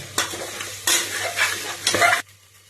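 Ginger garlic paste and cooked tomato sizzling as they are stirred in a pan for biryani, three loud bursts of frying and scraping strokes with a steady low hum underneath, then a sudden drop to quiet.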